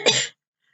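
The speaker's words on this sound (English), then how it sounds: "That is a cough." A single short, sharp cough, close and clear, followed by silence.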